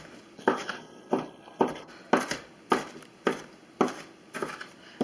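A knife chops red onions on a cutting board in a home kitchen, with about nine steady, evenly spaced thuds sounding close and crisp and no talking over them.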